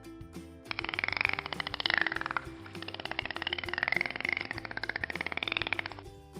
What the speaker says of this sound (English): A dolphin actually makes a clicking and a whistling sound like this.